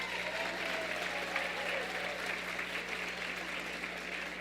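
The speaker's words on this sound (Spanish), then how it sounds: "denme un aplauso a las mujeres, por favor." A church congregation applauds steadily after a pastor's call during a service, a dense, even wash of clapping that stays moderately distant and holds at constant strength for the whole stretch, with no voices standing out.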